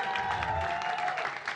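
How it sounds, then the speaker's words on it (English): A studio audience claps and cheers for producer Patrick in a short, dense burst of applause that stays steady and fairly loud before tapering at the end. "I heard the cheer."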